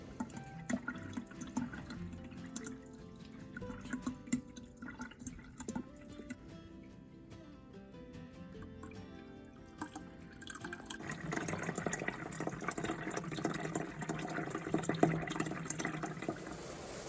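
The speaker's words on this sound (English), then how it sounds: "I'll be able to fill all 3 of these up" Drinking water running from a Berkey filter into jugs during a winter power outage, quiet trickling and dripping that swells into a fuller, steadier pour near the end, close and alone.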